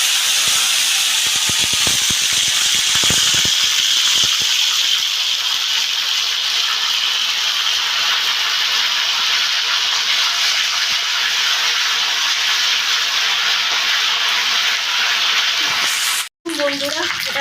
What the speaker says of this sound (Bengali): আর এখানে একটু জিরে ফোড়ন দিচ্ছি।